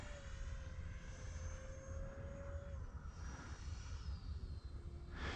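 A 3D-printed J10 model jet flies overhead, giving off a steady, continuous engine whine whose pitch drifts up and down as the throttle changes, with no talking.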